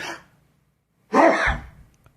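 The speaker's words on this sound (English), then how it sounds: "I could sneeze." A sneeze from a man in a casual studio conversation, a single sharp burst standing alone after a short breath, close and clear.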